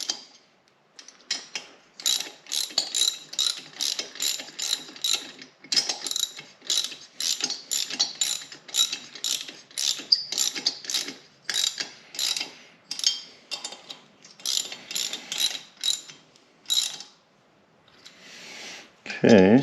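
A hand ratchet runs down bolts on a Yamaha PW50 motorcycle during a rebuild, giving repeated bursts of quick clicking strokes, close and fairly loud, with a brief louder clunk at the end.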